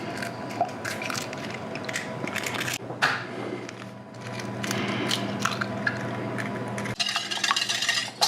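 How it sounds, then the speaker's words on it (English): Eggs are cracked and beaten in a bowl while soft pretzels are being made from scratch. Brisk, uneven clicks and taps of whisking run continuously at close range, with a louder scraping flurry near the end. "I might as well crack and beat these eggs while we wait."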